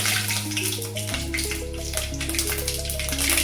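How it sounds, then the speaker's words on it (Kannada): Mustard seeds drop into hot ghee in a pan and fizz with a dense, steady crackling sizzle, close and fairly loud, with a low hum beneath and nobody speaking. "ಈಗ ಸಾಸಿವೆನ ಹಾಕೊಳ್ತಾ ಇದ್ದೀನಿ."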